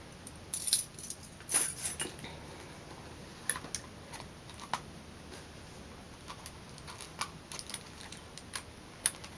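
Store keys on a ring jingle in a few brief metallic bursts near the start, then small clicks and taps scatter through a quiet room as a purse is searched.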